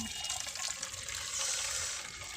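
Water runs into a sprayer tank in a steady, splashing gush that continues throughout at a moderate level, with no one speaking.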